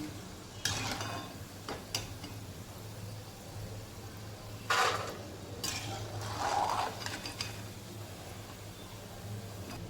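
Shankarpali pieces deep-frying in hot oil give a faint, steady bubbling sizzle, broken by a few clinks and scrapes of a utensil stirring and turning them.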